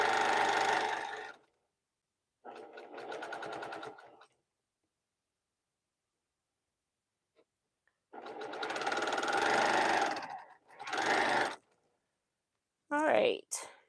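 A sewing machine stitches quilt block units in several short bursts of close mechanical whirring separated by quiet pauses. A brief voice comes at the very end.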